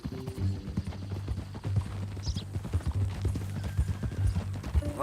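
Horse hooves clip-clopping steadily in Red Dead Redemption 2, a close, even rhythm of hoof strikes at a walking pace with faint jingling and ambient noise.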